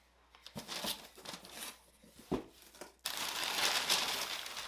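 Packing paper crinkles and rustles while a boxed figure is unboxed, with irregular close crackles and a sharp crunch, then a steady, louder dense rustle toward the end; no one talks.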